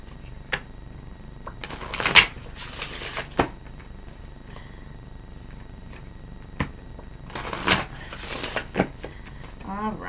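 Quick, crisp bursts of cards riffling together, a few short shuffles separated by quiet gaps, close by, with no talking.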